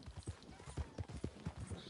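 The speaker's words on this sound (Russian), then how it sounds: "А ты живучая, хорошая лошадь." A horse's hooves clip-clop at a steady trotting rhythm in the video game Red Dead Redemption 2. The hoofbeats are quiet and evenly spaced, with faint ambient game sound underneath.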